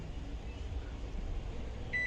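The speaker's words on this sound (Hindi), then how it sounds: "अब रख देती हूँ इनको माइक्रोवेव में पकाऊँगी 10 मिनट के लिए" A microwave oven runs with soaked rice inside, giving a steady low hum and fan whir at close range, with a short tonal beep near the end and no talking.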